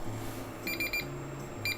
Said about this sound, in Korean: 타이머를 끄도록 하겠습니다.